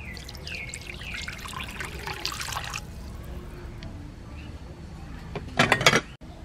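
Hot water poured into a pot while cooking big fish with lemon chili sauce in a countryside kitchen, a trickling pour followed by a brief louder splashing burst near the end, with faint background noise.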